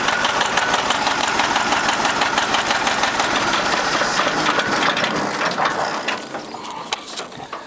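A 1957 John Deere 720 diesel tractor engine runs with a loud, rapid mechanical clatter and knock, steady and close throughout, easing slightly toward the end.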